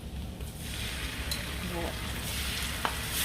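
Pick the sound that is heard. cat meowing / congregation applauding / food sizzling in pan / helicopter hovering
food sizzling in pan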